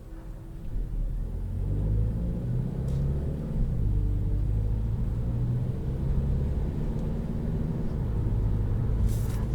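A 2020 Kia Niro Touring hybrid on the move, with a steady low rumble of road and engine noise from inside the cabin running evenly throughout, and no voices.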